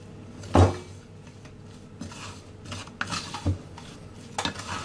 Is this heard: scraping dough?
yes